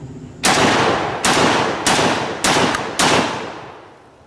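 Five loud 12-gauge blasts from an AR-12 semi-automatic shotgun at a shooting range, spaced about half a second apart with a quick pair near the end, each followed by a ringing decay outdoors.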